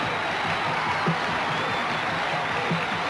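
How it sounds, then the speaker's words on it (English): A crowd at a martial arts demonstration gives a rousing ovation, with steady, dense applause that fills the space at moderate loudness for the whole stretch. "The crowd, in appreciation for the marvelous show he's put on, is giving him a rousing ovation."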